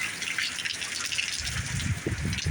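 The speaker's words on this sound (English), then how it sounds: "Water is running uphill. That's how hard the wind's blowing." Heavy rain pours and splashes outdoors with strong wind gusts, a dense continuous hiss with surging water and low rumbling buffets growing louder toward the end.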